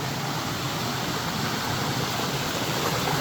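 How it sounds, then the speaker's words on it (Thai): A waterfall near a city gate gives a continuous, loud broadband rush of falling water, steady and close for a few seconds with no voices. "อันนี้เป็นโซน น้ำตกนะครับ"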